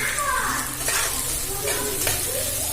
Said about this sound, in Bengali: আমি পেঁয়াজটা ভেজে নেব।